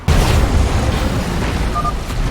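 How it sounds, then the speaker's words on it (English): Particle cannons explode in StarCraft 2: Legacy of the Void, a sustained loud booming roar with rumbling debris that fills the whole clip, with no talk over it. "The particle cannons have been destroyed, and I am sending you the last of our available forces."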